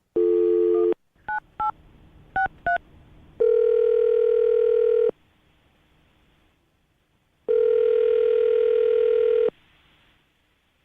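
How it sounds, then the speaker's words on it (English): Landline telephone being dialed for a radio call: a steady dial tone, then several short touch-tone beeps, another long tone and a second long tone after a silent gap, all clear and close with no talk. "I'm going to dial the phone right now so we can get her on the phone"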